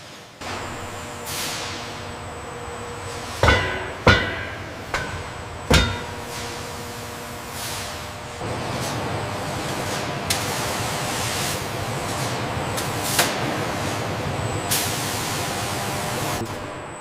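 Automated torque tools on a BYD electric SUV assembly line, with several sharp metallic hits near the start over a steady mechanical hiss and hum that keeps up the whole time, loud, busy factory noise with no voices.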